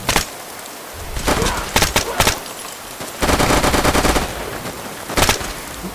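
Gunfire in a Fallout 4 gunfight with raiders: bursts of automatic fire and single shots crack in several loud volleys, with a sustained rattling stretch in the middle and a final sharp shot near the end.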